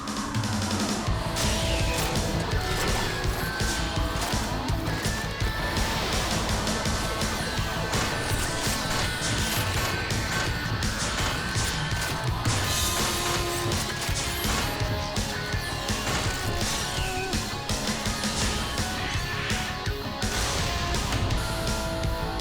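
A cartoon robot car, Tobot Turbo R, transforms: a dense, continuous burst of mechanical whirs, clanks, and crashing effects layered over loud music plays without pause for over twenty seconds.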